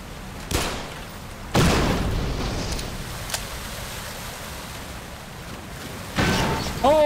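Explosions in Black Mesa boom out as separate blasts: one sharp blast early, a bigger rumbling one soon after that slowly fades, and a final loud boom near the end, with quiet stretches between them.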